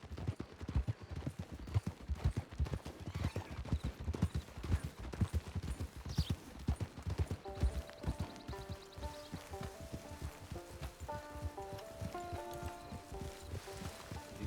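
A horse's hooves clip-clop in the Red Dead Online video game, a quick, rhythmic run of hoofbeats that slows toward the end while soft musical tones come in underneath.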